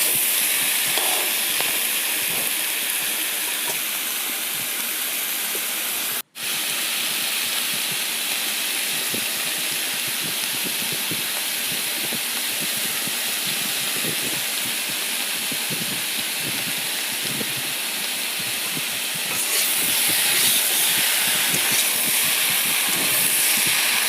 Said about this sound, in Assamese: তাৰপিছত মই ভালদৰে লৰাই ঢাকোন দি মই চব্জিখিনি সিজালৈকে ভাজি ল'ম।